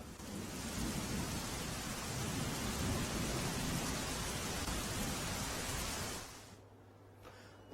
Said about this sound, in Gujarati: જુનાગઢના બાંટવામાં સવારથી ધોધમાર વરસાદ અને ભારે વરસાદથી બજારમાં ઘૂંટણ સભા પાણી ભરાયા